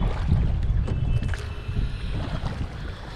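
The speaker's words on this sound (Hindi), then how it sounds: "सो बोट का राउंड चलता हुआ" A boat glides on a lake, its motor a low, steady rumble with wind and water wash blowing across the microphone.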